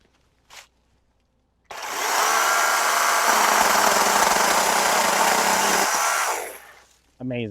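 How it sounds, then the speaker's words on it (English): A powerful chainsaw cuts through small tree branches during coppicing, running loud and close for about four and a half seconds before winding down. A brief knock comes before it starts, and a short burst follows at the end. "I love that we're using the strongest chainsaw for the tiniest branches"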